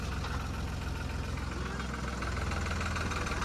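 A tractor engine runs steadily throughout, a continuous low, throbbing idle with a rough knocking pulse, fairly close and even in loudness, with faint voices in the background.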